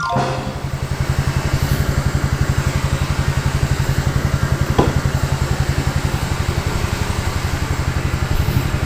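A Yamaha Fine motorcycle engine idles up close with a steady, rapid low thumping pulse that stays constant throughout, with one brief click midway.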